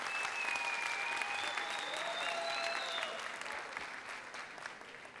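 A studio audience at the Popstar TV singing contest applauds the orchestra with sustained, dense clapping and a few whistled tones, gradually fading toward the end.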